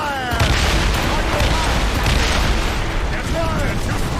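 Ship cannons fire during a naval battle in Assassin's Creed Rogue, with heavy, continuous booms and blasts layered over shouting crew voices, loud and dense throughout.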